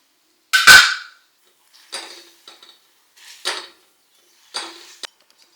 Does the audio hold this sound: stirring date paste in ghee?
yes